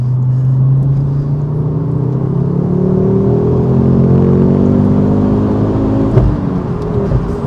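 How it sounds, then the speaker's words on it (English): Ford Focus RS five-cylinder engine revving loudly from inside the car, a continuous rising and falling growl under acceleration with a brief pop near the end. "I've missed the pops, I've missed the 5-pot growl"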